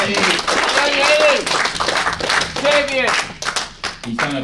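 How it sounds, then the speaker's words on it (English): A round of applause at a snooker final, with close, crisp clapping from a modest crowd while voices call out and talk over it. "Can I have a round of applause?"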